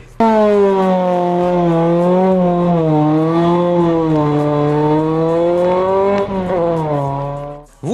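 A drag racing car's engine gives a loud, sustained roar with strong harmonic tone, holding steady pitch with slight wavering, then cutting off abruptly near the end.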